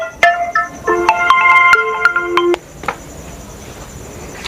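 Telephone dialing as a call is placed, a rapid run of keypad tones and beeps in steady sequence, fairly loud and close, followed by a quieter pause with faint background noise.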